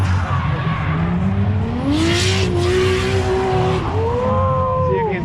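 A Nissan S14 drift car with a JZ engine accelerates hard at a raceway, its loud engine note climbing steadily in pitch with tire squeal, then dropping and rising again on the next gear.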